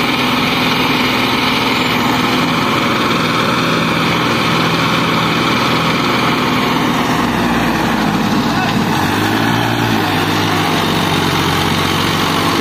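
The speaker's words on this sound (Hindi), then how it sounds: "पूरी जोर लगा रहा है ट्रैक्टर" A heavy tractor engine drones loudly and continuously, straining to pull a gravel-loaded trolley stuck in mud, its pitch shifting as it labors, with voices audible under the noise.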